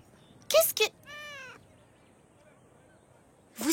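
A kitten stuck up high gives a single drawn-out meow between short bursts of nearby talk, faint and thin against a quiet outdoor background.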